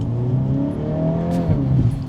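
A 2025 Volkswagen Golf R, four-wheel drive, accelerates hard with a loud, steady engine drone whose pitch climbs smoothly, heard close and alone with no talk.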